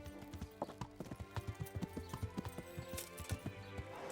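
Steady rhythmic clip-clop of a horse's hooves at a trot in the video game Kingdom Come: Deliverance, close and continuous over faint ambient game sound.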